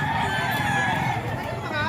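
Rooster crowing, a short drawn-out call over a steady hubbub of nearby voices and crowd noise at a gamecock gathering.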